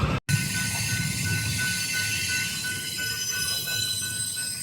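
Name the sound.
train passing on railroad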